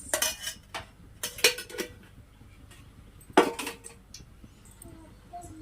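Small metal spoon clinking against a pan and container while oil is spooned in for fish curry, several sharp, separate taps and scrapes at uneven intervals over a quiet background.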